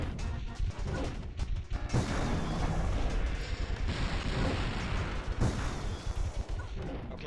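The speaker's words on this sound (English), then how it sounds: "Luckily, you don't have to worry about the explosions damaging you" Dense, continuous rumbling blasts and crashing gunfire in the video game Dino Crisis 2, loud and close, with near-constant booms and brief dips in between.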